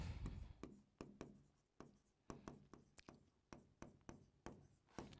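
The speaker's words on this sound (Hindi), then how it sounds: "लिख देती हूं" Pen or marker writing by hand during a class 11 biology lesson, a run of close, crisp taps and short scratchy strokes in an uneven rhythm, heard alone in a quiet room.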